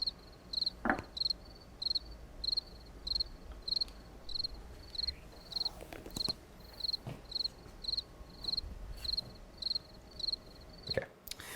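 Regular short cricket chirps repeat in a steady rhythm over a quiet background, with a few faint clicks and knocks in between.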